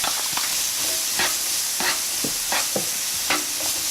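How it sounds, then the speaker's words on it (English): Minced onion sautéing with half-cooked carrots in olive oil: a constant bright sizzle punctuated by regular spatula scrapes and taps, close and steady. "I'm going to add my minced onion."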